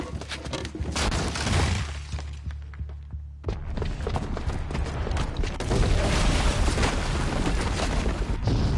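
A bomb's booby trap detonating in Horizon Zero Dawn: heavy booming blasts with shattering debris, a short muffled lull, then a sustained, loud rumble of crashes and crumbling.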